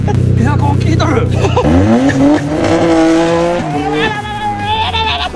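A long-abandoned rear-wheel-drive car strains hard as its tires squeal in long, wavering, pitch-sliding wails over a revving engine, loud and close, with voices in the background.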